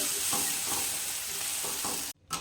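Cooked lentils sauté in a pan for dal khichdi, giving a steady close sizzle broken by a few soft scraping stir strokes, then a sudden brief drop to quiet near the end.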